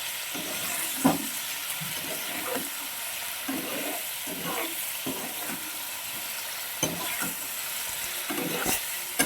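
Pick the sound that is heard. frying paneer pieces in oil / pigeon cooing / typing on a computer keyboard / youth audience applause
frying paneer pieces in oil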